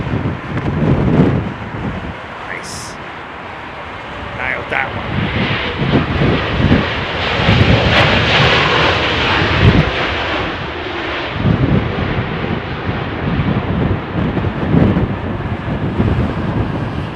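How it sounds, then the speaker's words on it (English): A Lufthansa Airbus A320neo landing at London Heathrow in a storm: a steady, broad jet engine roar mixed with heavy wind buffeting on the microphone, sustained and fairly loud throughout with no voices. "Lufthansa 320 Neo, old livery."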